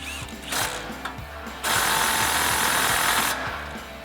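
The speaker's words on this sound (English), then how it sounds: "tighten it down with a 17mm socket and an impact" An impact wrench with a 17mm socket tightens a sway bar end link nut on a Tacoma during an ICON suspension lift install, giving a loud, rattling burst of about two seconds after some light ratcheting clicks.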